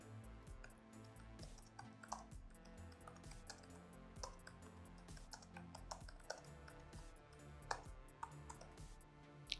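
Keystrokes tapped on a computer keyboard while entering a vendor query subject in a Magento 2 store form, arriving as a steady stream of quick, light clicks with small irregular bursts, close and fairly quiet, with no voices.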